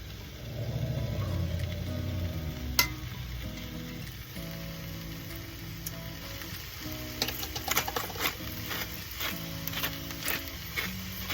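Tofu sizzles in a pan over a chipotle base inside an Airstream kitchen, a steady frying hiss with scattered crackles and pops over a low background hum.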